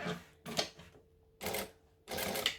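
Short bursts of a sewing machine stitching a Wonder Bag, three to four separate runs of rapid mechanical chatter with quiet gaps between them, close and fairly loud.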